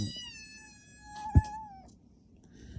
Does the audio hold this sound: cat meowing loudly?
yes